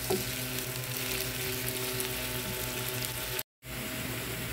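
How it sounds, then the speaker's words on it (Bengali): Onions fry in mustard oil in a pan as part of a tomato and eggplant mash recipe, giving a dense, steady sizzle up close that breaks off for a moment near the end, with no voices. "এখন পেঁয়াজটাও সরিষা তেলে ভালো করে ভেজে প্লেটে উঠিয়ে নেব।"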